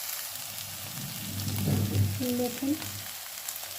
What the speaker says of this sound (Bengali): এই অল্প একটু তেল দিলাম, এই অল্প তেলে এটাকে আমি এখন ভাজবো।